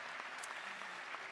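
Audience applause at a 2021 high school graduation ceremony: an even wash of many hands clapping, heard from a distance and fairly quiet, steady throughout.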